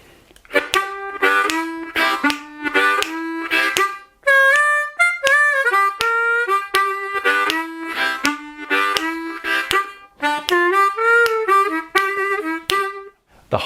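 A harmonica plays a bluesy riff in short bursts and bends, with choppy breathy rhythm and brief pauses between phrases.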